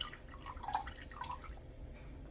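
Distilled water trickles into a measuring cup on a kitchen scale, a quiet, uneven stream of small splashes and gurgles close by, with no talking.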